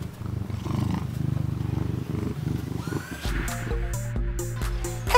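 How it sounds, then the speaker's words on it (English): A cat purrs with a heavy, rhythmic rumble that pulses steadily, then gives way to a brighter musical passage with regular beats. "they will show their satisfaction with heavy purring"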